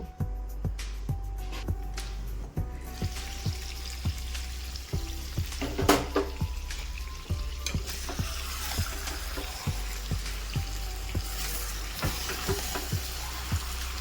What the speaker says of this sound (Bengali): আবার একটু ভালো করে নাড়াচাড়া করে নিচ্ছি লো টু মিডিয়াম হিটে চিকেনটাকে আবারও কিছুক্ষণ কষে নেব